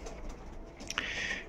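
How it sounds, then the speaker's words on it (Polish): Pigeons in an aviary give a soft coo and chirp over steady background hum and ambient noise, one call standing out briefly near the end. "i gołąbki trafiły do woliery"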